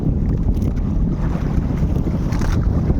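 A small fishing boat at sea battling strong monsoon wind, with steady loud wind buffeting and rushing water and hull noise throughout, close and continuous with no talk.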